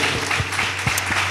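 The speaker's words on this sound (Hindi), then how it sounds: "ताली बजाएंगे यीशु के लिए।" A church congregation claps for Jesus in steady, continuous applause at a New Year service, a dense wash of many hands sustained throughout.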